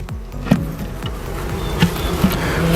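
Honeybees humming steadily inside an opened top bar hive, a dense close buzz with occasional louder individual bees passing near and light knocks of wood.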